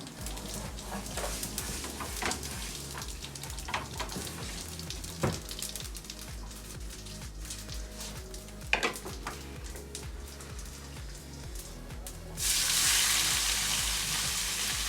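Cumin seeds sizzling and crackling in hot oil in a pan, with utensil clinks and scrapes scattered through, until a sudden louder burst of hissing near the end.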